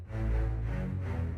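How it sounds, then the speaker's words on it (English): Low strings playing a shorts patch from the Albion sample library, with nearly all microphone positions enabled; a dense, close, sustained low orchestral tone runs the full length at steady volume with no voices. "that's very simply a low string sound from Albion."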